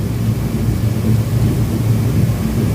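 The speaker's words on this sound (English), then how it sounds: "that's rain. Okay. It's hitting the metal roof" Heavy rain hammers a metal roof, a loud, steady roar with a deep rumbling undertone that stays constant throughout.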